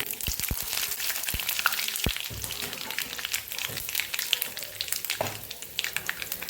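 Mustard seeds, cumin, a cinnamon piece and curry leaves frying in hot oil, giving a close, busy sizzle with sharp popping crackles, strongest early on, then a steady bubbling hiss.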